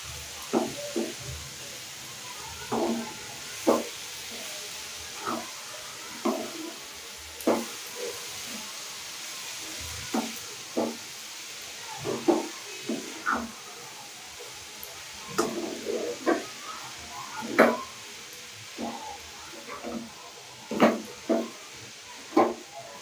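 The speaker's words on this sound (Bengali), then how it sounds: "বাঁধাকপিটা খুব ভালোভাবে নেড়ে নিলাম।" A utensil stirs boiled cabbage in a pan for a Bengali cabbage ghonto, making scattered soft scrapes and knocks at an irregular pace over a faint steady hiss. No voices are heard.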